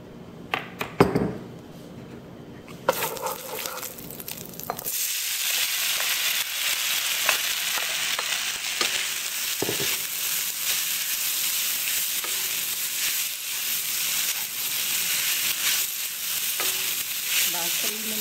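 Short noodles stir-frying in hot oil for a sweet and sour fish sauce dish. A few clinks and stirring knocks come first, then a loud, steady sizzling hiss that runs for the rest of the clip with occasional scrapes.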